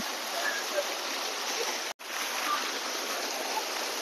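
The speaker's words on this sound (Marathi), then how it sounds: "पाण्याची कारंजे आहेत" Water fountains splash in a flower garden at the Empress Garden flower show, a steady, dense rush of falling water that fills the scene evenly, with one momentary dropout midway.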